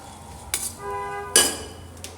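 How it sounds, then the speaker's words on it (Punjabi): Two sharp metallic clanks of utensils knocking together, with a faint ringing tone between them, in a fairly quiet room. "ਜਿਆਦਾ ਭਾਂਡੇ ਖੜਕ ਰਹੇ ਆ"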